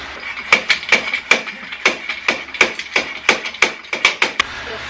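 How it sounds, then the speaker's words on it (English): Repeated sharp hammer blows on a block of wood to knock an exhaust pipe off a Harley-Davidson Ultra Classic, roughly twenty close, loud knocks in an uneven rhythm. "Now it says you got to put a piece of wood in here and hit it to drive this pipe off."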